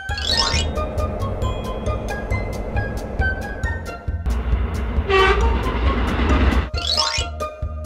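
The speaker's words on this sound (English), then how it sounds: "Inner city train." An inner-city train rumbles past up close with rhythmic rail clatter, and its horn blares loudly in long tones over the rolling noise.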